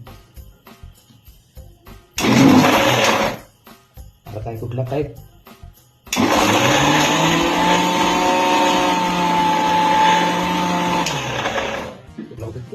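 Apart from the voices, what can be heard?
old electric mixer grinder grinding masala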